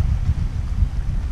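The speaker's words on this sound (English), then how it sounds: "It's a little windy." Wind buffets a microphone outdoors at a chilly campsite with a scenic view. It sounds as a loud, continuous low rumble with gusty fluctuations.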